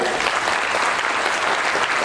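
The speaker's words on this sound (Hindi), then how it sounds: "तारीफ वाले साहब के लिए थोड़ा जोरदार ताली होनी चाहिए।" Dense, even applause from a seated audience at an agro-products company event in India, a continuous wash of clapping heard throughout with no pauses.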